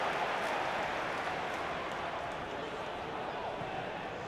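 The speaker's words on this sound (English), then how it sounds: "Usual 16-minute plus round of applause for Roberto Di Matteo." A stadium crowd at a Chelsea v Swansea City League Cup semi-final applauds steadily, a broad, distant wash of clapping that continues without a break.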